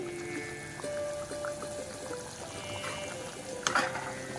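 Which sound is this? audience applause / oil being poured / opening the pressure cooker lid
oil being poured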